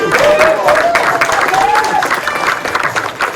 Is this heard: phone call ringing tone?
no